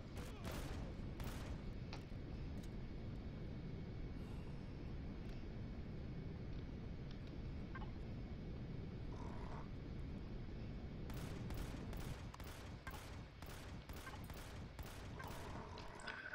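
Gunfire in the multiplayer survival game Empyrion Galactic Survival, with a sniper rifle and other weapons: a dense, continuous barrage of shots and blasts, then a faster volley of distinct sharp cracks near the end, all at steady loudness.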